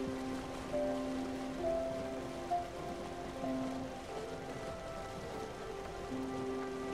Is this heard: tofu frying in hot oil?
no